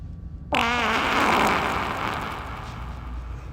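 A sudden, loud, rasping fart with a wavering pitch bursts in close, then trails into a long rumbling noisy tail that slowly fades.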